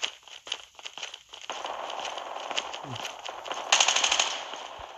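Rapid automatic gunfire in the video game Call of Duty, sustained bursts crackling over a steady game background, loud and close, with a sharper volley near the end.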